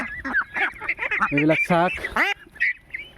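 Local domestic ducklings about six weeks old quack and honk in a noisy, close, overlapping chorus, while someone speaks briefly near the end.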